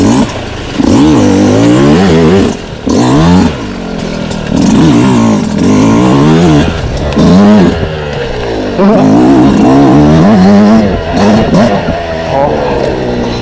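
A 2026 Yamaha YZ125X dirt bike's engine revs up and down through the gears on a ride, a loud, close, constantly shifting buzz, with a voice speaking over it.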